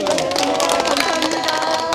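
An audience applauding a lecturer at a maritime academy talk, continuous loud clapping close by with a busy texture and no break.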